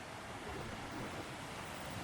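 Loud, steady rushing water close to a waterfall at the Rockport access near Jim Thorpe, Pennsylvania, a broad continuous roar with no voices over it.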